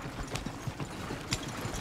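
Horses' hooves clip-clop at a steady walking rhythm in the Red Dead Redemption 2 video game, soft and moderately close, with faint background ambience and no clear talk.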